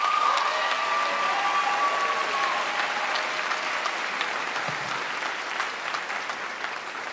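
Applause from a college commencement audience at Folsom Lake College, a dense, sustained wash of many clapping hands filling the hall, strong at first and slowly easing, with a faint tone briefly audible early on.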